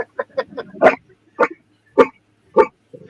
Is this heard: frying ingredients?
no